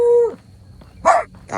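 Dogs bark outdoors: a drawn-out bark opens, then after a short pause comes a sharper, louder bark and a quick yip.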